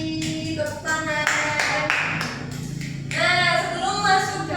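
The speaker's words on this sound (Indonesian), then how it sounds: "Tepuk tangan." Students in a classroom give a short burst of hand clapping, a quick patter of claps that rises and fades over a few seconds, fairly close, mixed with light room noise.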